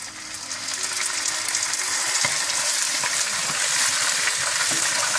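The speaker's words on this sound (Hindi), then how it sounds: "फिर बाकी प्याज में आपने दही डाल देना है।" Yogurt hits a pan of frying onions for degi chicken biryani, setting off a loud, steady sizzle and crackle that holds throughout with no talking.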